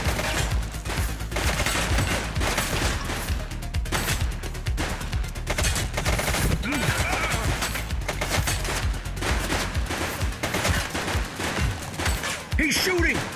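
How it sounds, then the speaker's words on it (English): Gunfire from a police video game, with repeated shots and bursts running loud and steady through the whole stretch over a dense game soundtrack, and a voice speaking now and then. "He's shooting!"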